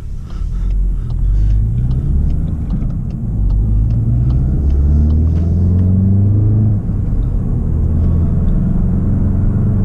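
A 2024 Volkswagen Golf GTI MK8 drives with a loud, steady engine rumble from inside the cabin, its pitch climbing and dropping through several gear shifts across the run, with faint clicks above.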